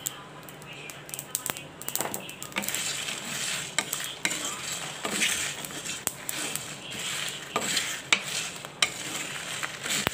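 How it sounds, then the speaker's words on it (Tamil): Cumin and fenugreek seeds crackle while dry roasting in a pan for a horse grain kuzhambu, with scattered sharp pops over a steady sizzling hiss and occasional stirring scrapes, close by. "ஜீரகம்லாம் வெடிக்குது, வெந்தயம்லாம் வெடிக்குது."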